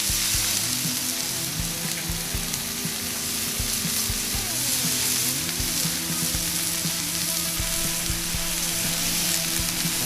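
Skirt steak sears on a Blackstone griddle over high heat, a loud, steady, close sizzle and crackle of frying meat that runs unbroken with no talking.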